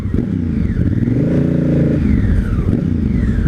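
Exhaust of a 2018 Honda Africa Twin Adventure Sport motorcycle echoing between buildings, a loud, deep engine note that revs up and settles again, nearby and continuous with no talk.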